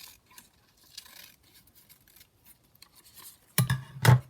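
Scissors trimming paper for a junk journal, with faint handling rustles before two sharp, close snips near the end.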